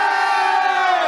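A crowd of football fans shouts and cheers together in a sustained, dense roar that holds steady at full volume throughout, with no pauses or individual voices standing out.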